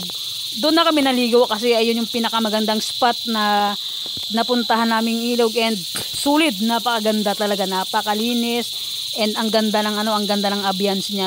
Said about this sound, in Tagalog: So yan, tumutunog na yung ating mga kuliglig.